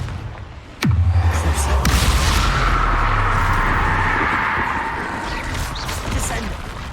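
A Confringo spell bursts in Hogwarts Legacy: one sharp, loud explosive crack, then a sustained roaring, crackling rumble that slowly fades, with no talk.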